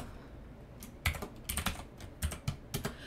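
A few sharp keystrokes on a computer keyboard entering a shortcut, in small clustered bursts of clicks against quiet room tone, close and fairly soft.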